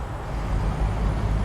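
Heavy truck engine rumble with air brake hiss from a truck-driving simulator game, a steady, loud low drone that fills the whole moment with no speech over it.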